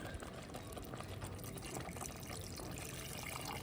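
Water in which chicken was boiled pours steadily into a pan, a continuous splashing, filling sound that stays close and even throughout.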